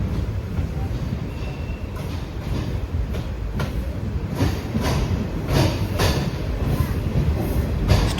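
A train rumbles through Kadur railway junction station at dawn, a steady, close clatter of wheels and carriages with rhythmic knocks over the rails.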